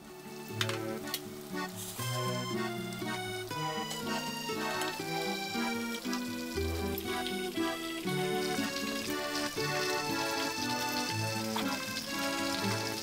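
Meatballs frying in a pan, with a steady sizzle and crackle, while background music with melodic tones plays loudly over it the whole time.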